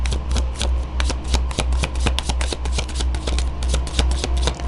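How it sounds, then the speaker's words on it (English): Tarot cards are shuffled by hand close up, a brisk run of crisp riffling flicks and soft slaps repeating steadily with no talk. "Let's see what I would shuffle off cam so you could see your cards."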